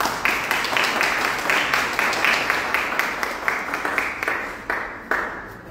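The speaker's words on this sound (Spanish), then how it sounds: "Damos un aplauso al autor" An audience at an author's event breaks into applause, a dense run of many clapping hands that holds steady for several seconds and then thins out toward the end.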